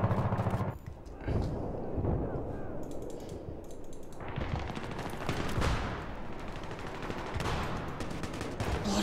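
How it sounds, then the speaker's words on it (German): Sustained bursts of automatic gunfire in the video game Battlefield 3, in close-quarters combat on the Ziba Tower map, mixed with clattering keyboard clicks and a voice speaking. "ich habe einfach nur Dauergeschoss gemacht"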